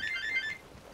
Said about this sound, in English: That is my phone ringing